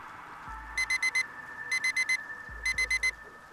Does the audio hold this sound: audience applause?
no